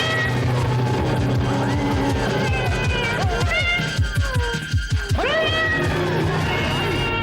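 A cat meows and yowls repeatedly in a Hindi horror drama scene, loud, close, rising and falling cries, with a burst of agitated human voices partway through.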